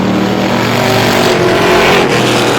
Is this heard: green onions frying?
no